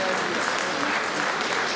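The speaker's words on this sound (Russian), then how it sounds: "Бурные аплодисменты" Enthusiastic applause from a concert audience at a gala of choral songs, dense continuous clapping filling the brief moment at full loudness.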